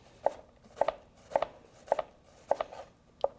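A knife chops half a red onion on a cutting board in six crisp, evenly spaced knocks, close and clear, with no talking.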